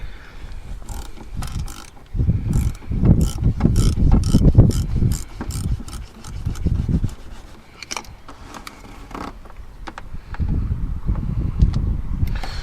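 Ratcheting hand tool clicking steadily while loosening the battery ground cable on a Volvo, a close, loud run of rapid metallic clicks with pauses and brief scrapes, no voice over it.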